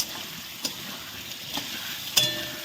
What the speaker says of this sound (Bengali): আলু ভাজার মধ্যে ভাজার থেকে একটু লবণ দিয়ে দিলাম ওর মধ্যে তাহলে আলুটা ভালো ভাজা হবে